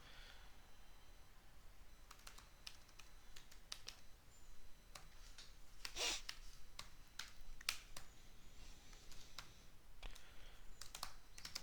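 Someone types on a computer keyboard while writing a beginner C program, producing faint, scattered key clicks in uneven short runs over a quiet background.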